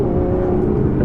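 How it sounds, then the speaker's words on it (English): An Aston Martin Vanquish with a 177-derived exhaust system revs hard, a loud, dense, rumbling engine roar with a steady tone and rough crackling texture, close and continuous over a brief moment. "you can really hear that 177 derived exhaust system crackling"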